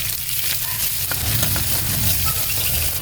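Spice paste with cinnamon and bay leaf fries in hot oil in a pan for a tomato chutney, giving a continuous loud sizzle with occasional crackles and scraping stirs, close and without talk.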